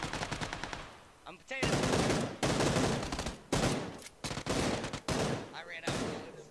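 Rapid bursts of automatic gunfire in PUBG: Battlegrounds, loud and close, firing in several sustained volleys separated by brief pauses.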